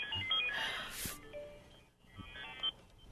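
A telephone rings on a call-in radio show, its electronic tones sounding in two bursts separated by a brief gap, moderately loud over a hissy, noisy background, with no talking.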